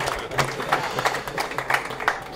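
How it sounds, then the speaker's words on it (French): Applause from guests at a VIP reception after a handball match between Angers and Vernon, scattered clapping with uneven bursts rising and falling, moderately loud, with some voices mixed in. "Sous vos applaudissements, Michel Houdbin"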